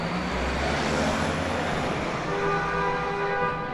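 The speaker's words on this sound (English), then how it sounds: "That was an angry honk." A long, steady car horn blares over loud traffic noise on Broadway in New York City, its sustained tones holding across the whole stretch with no speech.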